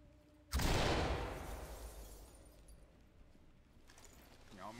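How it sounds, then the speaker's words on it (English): A flashbang grenade bursts in a video game with a sudden sharp loud bang that decays into a long ringing wash, and a voice is briefly heard at the end. "Flashbang out!"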